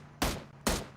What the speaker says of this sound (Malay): Cantik betul tembakan ke arah Flukus